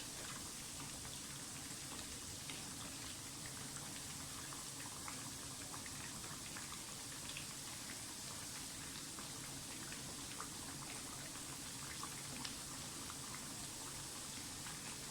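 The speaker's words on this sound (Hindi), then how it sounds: "फ़िश के जो पीस हैं उनका साइज़ काफ़ी मोटा है, तो इसलिए इसको ज़्यादा टाइम लग रहा है फ्राई होने में" Thick fish pieces frying in hot oil, a steady dense sizzle with fine crackling pops that runs unbroken and fairly quiet throughout.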